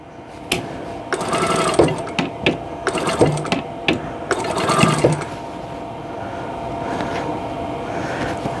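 A sewing machine joins quilt block pieces, running in several short rapid bursts with brief pauses between, close and fairly loud, then quieting to a low hum.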